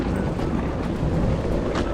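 Strong, cold winter wind in Denmark buffets the microphone outdoors, making a dense, steady roar with low gusty rumbles and no voices.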